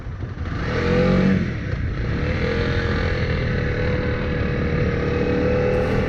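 Honda CRF300L motorcycle with its stock exhaust, climbing a hill under steady load, a close continuous engine drone that swells early and then holds an even, throaty note with some clatter and no talk.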